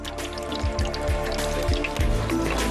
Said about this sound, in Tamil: கொஞ்சம் நெய் ஊத்துங்க.